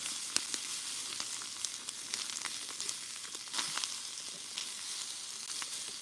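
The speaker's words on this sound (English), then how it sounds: "In cast iron, you can just hear it sizzle and cook up." Steady crackling sizzle of corned beef hash frying in a cast iron pan, with sharp pops and spits scattered throughout.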